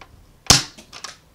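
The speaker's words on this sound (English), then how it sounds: "Let's take our first shot." A Nerf N-Strike Modulus Recon MKII blaster fires a single sharp shot, a brief snappy pop up close, followed by a few faint clicks and rattles.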